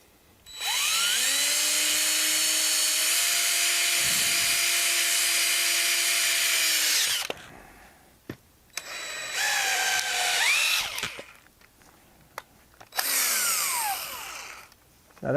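Power drill driving a cone splitter into a piece of wood, a loud high whine in long bursts with pitch dips as it bites, then stops and short restarts.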